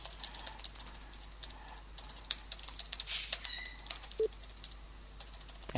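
Someone types on a computer keyboard in a quiet room, producing irregular bursts of soft key clicks broken by short pauses, with no voices.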